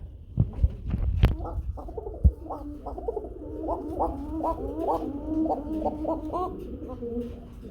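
Koka pigeons offered as a breeding pair give repeated throaty cooing calls, close and fairly steady, preceded by a few sharp handling knocks at the start.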